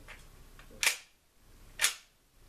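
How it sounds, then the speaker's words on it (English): A Taurus Model 62C pump-action rifle cycled by hand indoors, two sharp metallic clacks of the slide about a second apart, close and crisp with quiet between them. "To reload it, you need to manually cycle the action. That is done via this pump,"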